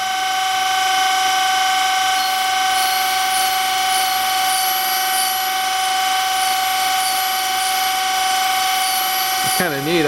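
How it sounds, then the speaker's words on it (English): A machine grinding a steel edgefinder part in a toolmaking shop, a continuous high, tonal whine with a steady mechanical hum underneath, loud and unchanging, with a brief shift in tone near the end. "So it looks like we're grinding all the way around now."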